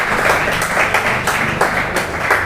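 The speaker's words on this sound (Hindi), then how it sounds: "एक बार तालियों से मुझे सूचित करें कि मैं सही पढ़ रहा हूँ।" An audience claps at a Hindi-Urdu poetry recital, a brief burst of dense, moderately loud applause heard on its own.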